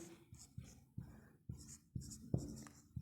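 Chalk or marker writing on a classroom board during a sixth-grade maths lesson: a string of short, close strokes and taps in an uneven rhythm, with no one talking.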